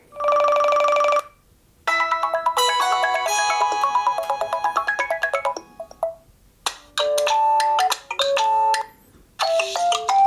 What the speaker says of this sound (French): on peut changer la sonnerie de montre